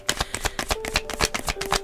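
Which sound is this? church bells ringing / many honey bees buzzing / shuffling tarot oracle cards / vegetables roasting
shuffling tarot oracle cards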